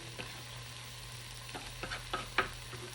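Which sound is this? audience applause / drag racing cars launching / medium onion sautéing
medium onion sautéing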